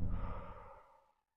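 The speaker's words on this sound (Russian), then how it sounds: "глубокий вдох носиком и выдох ртом" A single deep exhale through the mouth during a breathing exercise, heard close as a soft breathy rush that fades out over about a second.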